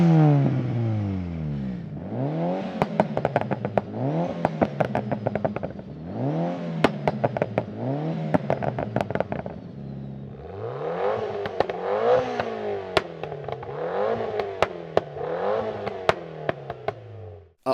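Tuned Mitsubishi Lancer Evolution cars revving their engines, a repeating series of sharp rising revs that fall back, about seven blips with crackles and pops between them, loud and close.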